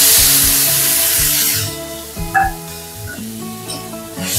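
Spice paste dropped into hot oil with cumin seeds for Kashmiri aloo dum, a loud hissing sizzle at first that quiets into softer crackling and bubbling, then swells again.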